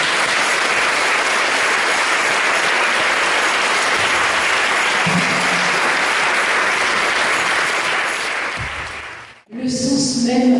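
A church congregation breaks into sustained, loud applause and acclamation praising God, a dense wash of clapping that holds steady for several seconds before cutting off into a brief pause.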